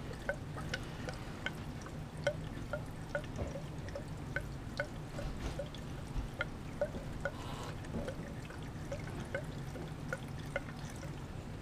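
Gasoline poured from a plastic gas jug, a faint steady trickling and glugging stream with small drips and clicks throughout, no talk.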